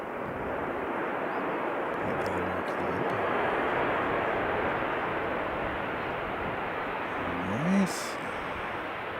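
The deep, broad roar of an Emirates A380 airliner on approach fills the air as it passes nearby, loud and sustained, with a faint whine rising briefly near the end.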